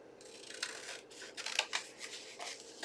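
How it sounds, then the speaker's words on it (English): Scissors snip through a paper junk journal card in a quick series of close, crisp cuts, the blades clicking in an uneven rhythm with light rustling between strokes and no talking. "I'm going to bring in my scissors and I'm going to trim this"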